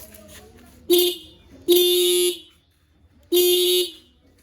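A toy motorcycle horn sounds three bright, buzzy toots, each lasting roughly half a second, loud and close, with quiet background murmur in the gaps.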